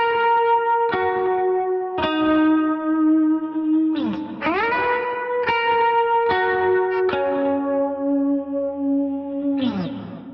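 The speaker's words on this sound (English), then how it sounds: "Slowed down without the drive on" Clean electric guitar playing a slow melodic hook for a song, without drive, with sustained single notes, slides up into pitches and light effects tails, played alone without speech.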